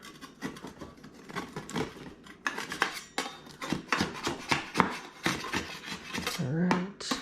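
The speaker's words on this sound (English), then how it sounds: "you just kind of want to scrape it down" A utensil scrapes melted cheese off the burnt edges of a Detroit-style pizza in its pan, a series of close, repeated rasping strokes with metallic scuffs, fairly quiet overall.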